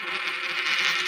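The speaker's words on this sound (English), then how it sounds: "you rotate or spin the coin and let it fall slowly," A coin spinning on a table as it slowly falls, making a steady, close, buzzing whir that rises slightly toward the end.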